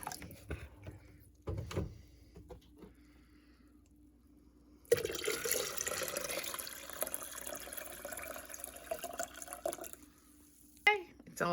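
Water pours steadily into a tea pitcher for several seconds, a continuous rushing fill that starts abruptly and stops, with quieter handling sounds before and after.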